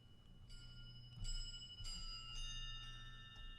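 Bright metallic pings ring out one after another, each sustaining with a clear, shimmering tone over a low background hum.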